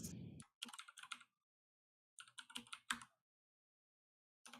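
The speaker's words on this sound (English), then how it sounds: "I was typing it to you guys" Quiet keyboard typing during a tabletop role-playing session, with short clusters of rapid keystrokes separated by silent gaps, close and soft.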